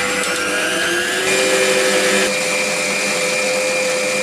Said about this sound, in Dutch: En dit mag je ook weer door elkaar gaan mixen.